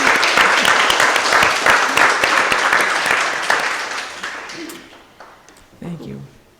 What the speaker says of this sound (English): Another round of applause for Kathy.